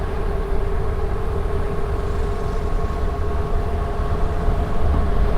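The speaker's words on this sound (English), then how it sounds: "And we have a train." Steady low rumble of a train rolling past in Winfield, Kansas, continuous and fairly close, with no voices over it.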